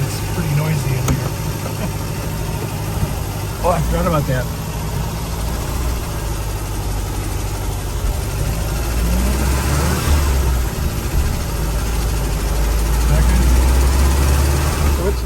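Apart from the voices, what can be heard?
car engine running, noisy inside cabin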